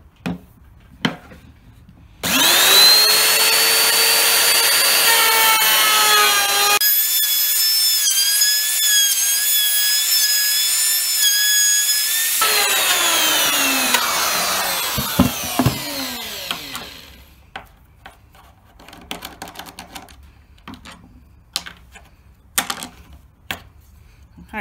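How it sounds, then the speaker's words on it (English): A router with a top-bearing pattern cutting bit trims the edges of wood pieces, a loud, close, sustained high whine that changes pitch as the bit cuts, then spins down and gives way to scattered clatter. "I'm going to use this pattern cutting bit with the top bearing,"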